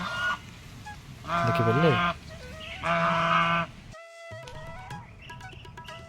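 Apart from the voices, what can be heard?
ducks quacking at a pond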